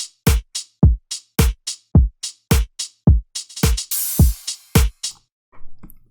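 A minimalist pop drum beat programmed in an FL Studio sequencer plays a sparse, punchy kick-and-snare pattern with a steady rhythm, then a quick stuttering fill near the end, loud and dry with no voices.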